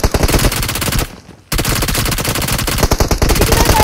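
Loud, rapid automatic gunfire from the video game PUBG Mobile rattles in dense bursts, stops briefly, then resumes as sustained close firing.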